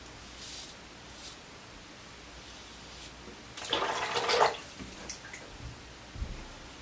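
Hot tap water runs into a bathroom sink as a razor is dipped, with a soft steady hiss through the clip and a louder splashing burst in the middle.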